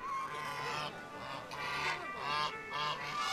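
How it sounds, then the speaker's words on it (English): Flock of geese gathered in a small village for the annual Goose Palio race, a crowd of townsfolk with around 150 birds, honking loudly and repeatedly in overlapping bursts that rise and fall over a continuous background din. "A gaggle of townsfolk and their respective geese gathered in the small northwestern village of Mirano to take part in the annual Goose Palio"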